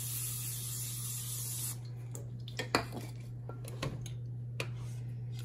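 Short hiss of nonstick cooking spray from an aerosol can, loud for under two seconds, then quiet kitchen clatter of dishes and utensils with a steady background hum.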